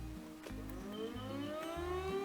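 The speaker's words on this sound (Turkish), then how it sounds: "Burada bir siren var arkadaşlar." A rising electronic siren wails steadily in Farming Simulator 2019, climbing in pitch over a low, pulsing synthetic hum.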